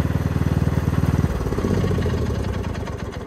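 A Cub Cadet XT1 lawn tractor engine idles steadily with a fast, even putter, loud and close, its tone shifting slightly partway through.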